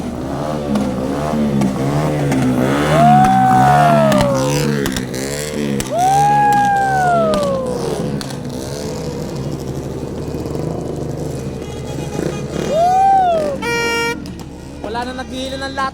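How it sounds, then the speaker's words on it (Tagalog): Motorcycle engines rev repeatedly with rising and falling whines, loud and close, over a lively crowd cheering on New Year's Eve. "mga motor naman!"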